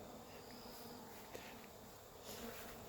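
Honey bees buzz faintly at a hive entrance, a continuous soft drone with a few individual bees passing nearby, no talking.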